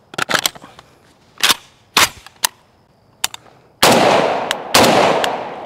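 Several sharp, loud rifle shots from a .308 fitted with an Unrivaled muzzle brake, fired close at irregular intervals, with a longer roaring blast near the end and no talking.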